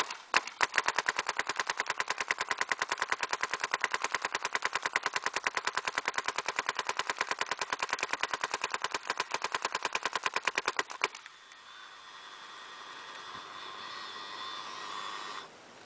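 Rapid full-auto bursts from a PMR airsoft gun on a Halo setup, capped at 10.9, firing a steady, loud, machine-gun-like rattle of evenly spaced shots for about eleven seconds, then stopping abruptly to leave a quiet hiss.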